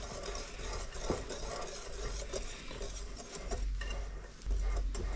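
A whisk scraping steadily through baking powder and sugar in a bowl for blueberry scones, a continuous close rasping stir with no talking.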